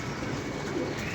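Pigeons cooing near a Lahore pigeon keeper's loft, soft low throaty coos running steadily through a short stretch with no voices.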